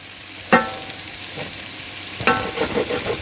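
A pat of butter melts and sizzles with sweet potatoes in a skillet for a brown sugar and honey glazed side dish. Steady close sizzling is broken by two sharp spoon scrapes against the pan, and no one speaks.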